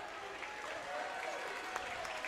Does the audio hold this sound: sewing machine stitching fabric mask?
no